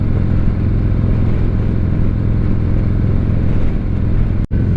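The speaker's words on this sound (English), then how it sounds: "This is a fantastic motorcycle." A Harley-Davidson Sport Glide rumbles loud and steady while being ridden, its engine note holding constant and close with a brief dropout near the end.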